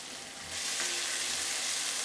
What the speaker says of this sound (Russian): Лук обжаривается. Максимальная температура.